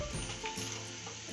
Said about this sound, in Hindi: सबको थोड़ी देर भून लेंगे। ये सभी चीजें भून गई हैं।